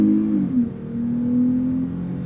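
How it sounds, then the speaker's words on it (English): A 2020 Dodge Charger SXT engine hums low from inside the cabin, its tone dipping briefly and then rising gently as the sedan picks up speed. "and just see what the acceleration is like"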